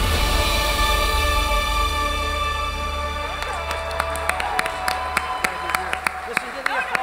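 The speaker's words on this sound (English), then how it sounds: "Listen to the applause." Audience applause in a hall during the Canadian Horse Racing Hall of Fame induction ceremony, steady clapping that thins into scattered individual claps, with talking over it.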